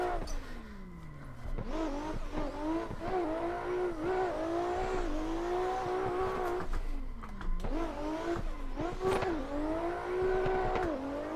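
Drift car in Assetto Corsa revving hard and continuously, engine pitch sweeping up and down with clutch kicks while tires squeal through a close, loud run.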